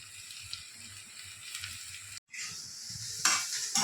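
Carrots, green peas and other vegetables sizzle and hiss steadily as they are stirred in hot oil for masala pulao, with a soft scrape of stirring and a brief pause before the frying noise swells louder.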